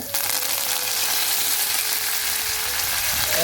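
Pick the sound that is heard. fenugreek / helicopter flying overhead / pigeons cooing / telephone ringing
fenugreek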